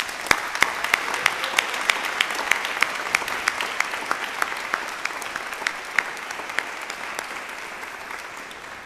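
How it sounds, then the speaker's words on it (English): Audience applause for the staff at a 2016 graduate convocation ceremony, steady clapping from a crowd lasting about nine seconds with distinct louder claps standing out near the front, no talking. "give them a round of applause."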